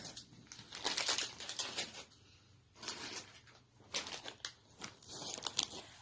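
A plastic candy wrapper crinkles up close, quiet but crisp, in irregular bursts of crackling and rustling separated by short pauses.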